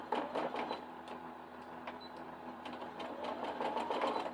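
A sewing machine runs steadily, stitching a quarter-inch quilt seam straight across fabric from end to end, its close, continuous whir broken by faint clicks.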